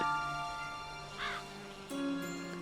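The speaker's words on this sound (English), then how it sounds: "Well, there is the bird." In The Witcher 3: Hearts of Stone, a crow gives a couple of clear, hoarse caws over a steady low game ambience and music.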